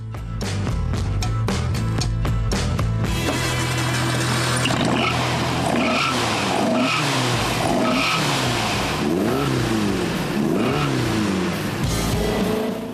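A vintage Volkswagen Rallye Bug with a 2-liter, 145-horsepower boxer engine is driven hard. After a few sharp clicks, the engine revs rise and fall repeatedly through gear changes, loud and close, with tire noise and no talking.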